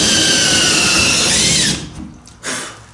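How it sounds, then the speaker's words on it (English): A power drill whines loudly as it bores through wood on a daggerboard box for an Acorn dinghy build, running steadily for under two seconds before stopping, followed by a brief faint rustle. "So I'm just going to take my drill here and"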